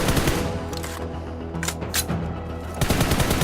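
Automatic rifle fire on a PUBG Mobile training ground during recoil-control practice, a dense, sustained burst running the full length with a steady rattling texture, loud and close with no talk.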